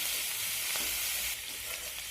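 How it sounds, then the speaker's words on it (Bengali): Shrimp frying lightly in a hot pan, a steady close sizzle of crackling oil that holds for about two seconds without talk. "চিংড়ি মাছটাকে আমি হালকা করে ভেজে নেব"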